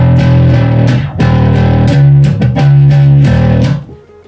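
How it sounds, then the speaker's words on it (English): A P bass with a maple fingerboard, picked hard, plays a rhythmic run of bright, punchy notes with sustained low tones and gritty edge, close and loud, ringing out and fading near the end. "That is the sound of somebody playing with a pick on a P bass with a maple fingerboard."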